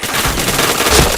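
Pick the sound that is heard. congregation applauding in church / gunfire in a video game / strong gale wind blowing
gunfire in a video game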